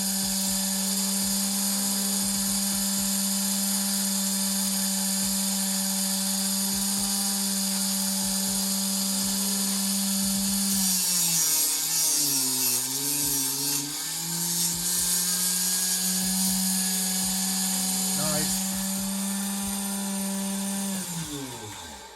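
A kickstand is cut to length with a high-pitched rotary cutting tool that whines steadily, the pitch sagging and wavering midway as it bites into the material before recovering, loud and close with no talking.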